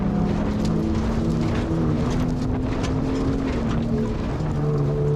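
A 2021 Ford Raptor's exhaust in loud Baja mode on a desert drive produces a continuous deep droning rumble with a shifting pitch, heard steadily from inside the cab.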